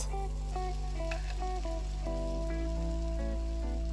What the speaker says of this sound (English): Now add the saag in this tasty tarka.